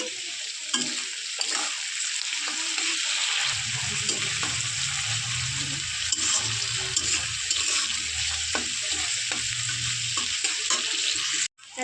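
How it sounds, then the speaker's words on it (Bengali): Onions frying with salt in a pan give a steady, close sizzle throughout, with a lower bubbling hiss joining partway and occasional stirring scrapes. "এখন ভালো করে ভেজে নেবো একটু নুন দিয়ে দেবো"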